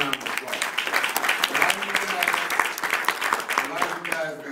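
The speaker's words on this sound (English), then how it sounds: "Give him a round of applause." Audience applause for a guest called up to stand at an event, a steady burst of many hands clapping that stays dense and loud throughout, with voices mixed in.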